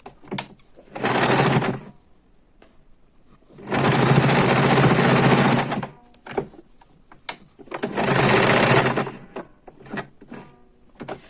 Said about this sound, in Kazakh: Тігіп жіберейін.